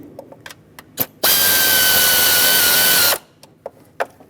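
A power driver runs steadily for about two seconds, threading T30-head screws into a new intake manifold on a 2003-2009 Dodge Ram 2500 with a 5.7L V8, set among small clicks and handling noises.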